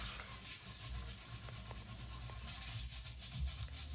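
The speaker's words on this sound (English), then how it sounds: "you make sure you get the underlip of the toilet and you clean off that residue that collects underneath the rims" Rhythmic scrubbing under the rim of a toilet in a guest bathroom, quick repeated brushing strokes, close and fairly quiet with no talking.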